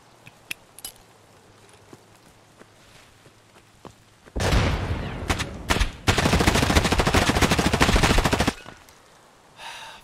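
Automatic rifle fire in Escape From Tarkov, a loud sustained burst of rapid shots emptying a full magazine after short opening cracks, with scattered quieter clicks and movement before it.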